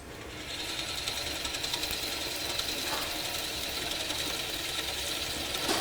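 A Forstner bit bores through a wood block in a lathe at low speed, giving a steady rumbling mechanical drone with a fine, continuous chatter of cutting throughout.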